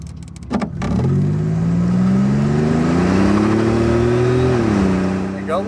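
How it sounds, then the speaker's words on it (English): A stock 1987 Buick Grand National with a turbocharged 3.8 engine pulls away hard from a dead stop, its engine note climbing loud and close through the gears. "There you go, a little second gear chirp."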